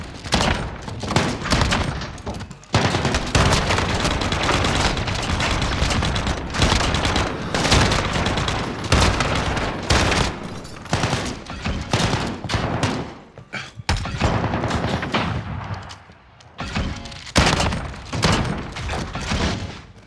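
RAAL LMG machine gun firing in Call of Duty Modern Warfare, long loud bursts of rapid automatic fire broken by short pauses, with booming impacts throughout.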